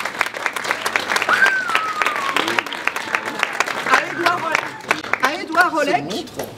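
An audience claps steadily at a gathering at a faience museum, dense even applause throughout while a voice speaks over it.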